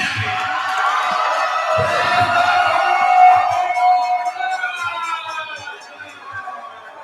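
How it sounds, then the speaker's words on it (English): A large crowd roars and cheers at an MMA event after a unanimous decision in a 145-pound title bout, a loud, sustained swell of noise with shrill whistles that peaks mid-way and slowly eases off. "That might have been the biggest pop from the crowd we've heard tonight."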